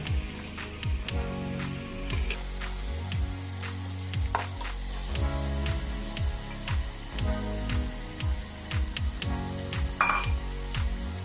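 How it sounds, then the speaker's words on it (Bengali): Marinated mutton drops into a hot pan of fried onions for a Bengali mutton kasha and sizzles loudly and steadily, with repeated clinks and scrapes of a spoon against the pan. "এবার মাংসটা আমরা এর মধ্যে অ্যাড করব"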